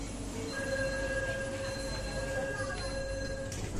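An electric light rail train in Jakarta rolls along with a steady rumble and long, thin wheel squeals ringing over it, heard from on board.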